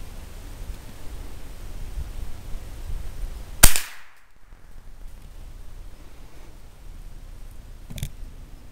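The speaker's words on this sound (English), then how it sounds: "I'm shooting at those little plinkers you can see down there." A single sharp crack of a Savage Model 62/64 .22 rifle fired at small plinking targets about 40 yards off, sounding once near the middle, followed by quiet outdoor ambience and a faint click near the end.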